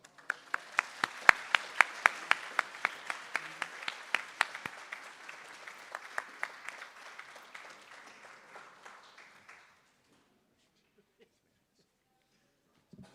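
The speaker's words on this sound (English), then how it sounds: "Please, let's have a round of applause for Mark." An audience applauds with sharp, close claps over a dense bed of clapping that swells, then thins out and fades to silence after about nine seconds.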